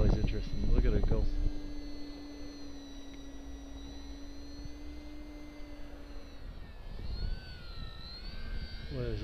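A Parkzone VisionAire RC plane flies low in gusty wind, its thin electric motor whine buzzing steadily with shifting pitch as it passes, under brief talk at the start and end.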